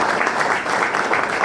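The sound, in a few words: applause for a leader at a speech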